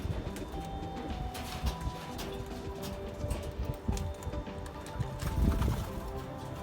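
Soft, low cooing from kept pigeons at feeding time rumbles continuously amid a busy flock, with scattered flutters and shuffling, fairly close.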